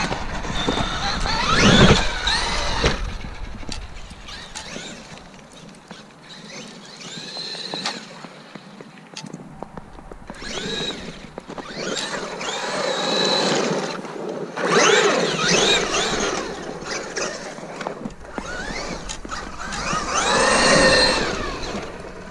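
A Traxxas X-Maxx 8S RC monster truck running outdoors on gravel, its electric motor whining up and down in repeated loud bursts as it accelerates, passes and slows, with wind and crunching ground noise between runs.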